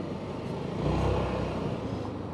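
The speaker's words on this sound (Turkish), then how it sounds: "Bakın şöyle gazı açtık mı? Yani motor uzuyor arkadaşlar." A Honda ADV 350 scooter-style motorcycle on the road opens its throttle, the engine drone swelling for a moment then holding steady under wind noise, fairly quiet with no talk.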